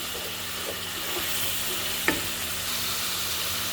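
Spices for mutton biryani fry in a pan with a constant close sizzle, faint scraping of stirring and one sharp clack of a spoon against the pot midway, no talk.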